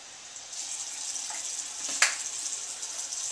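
Cool tap water running steadily into a black-and-white film developing tank as a rinse, a soft continuous hiss with a brief splash partway through.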